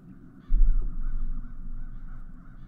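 Crows cawing in the fantasy game Satinavs Ketten: a loud, continuous harsh chorus of calls that starts abruptly and carries on steadily, with no voices over it.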